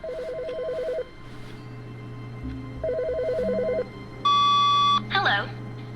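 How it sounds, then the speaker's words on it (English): A telephone rings in a video game, sounding in repeated electronic trill bursts with pauses between, followed by a sustained steady beep and a short warbling tone, over a low background hum. "Oh, the phone is ringing."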